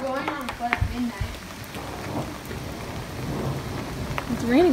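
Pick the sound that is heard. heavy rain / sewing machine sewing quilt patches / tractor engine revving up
heavy rain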